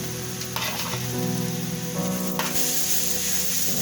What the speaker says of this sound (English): Then stir.